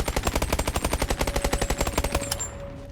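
The SN6 submachine gun in the video game BONELAB fires a rapid, close, loud burst of evenly spaced shots for over two seconds, then stops, leaving a brief ringing tail.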